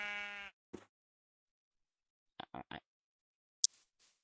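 A sheep in Minecraft, in the Dalek mod, gives a single clear bleat, followed by a few short, quieter bleats scattered through otherwise silent gameplay, heard close up.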